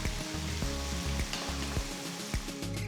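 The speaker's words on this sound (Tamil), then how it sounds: "இதெல்லாம் சேர்த்து நல்லா வதக்குங்க" Steady sizzling of garlic, ginger, chilies and white spring onions frying in hot oil for Singapore fried rice, with occasional clinks and scrapes of a spoon stirring the pan.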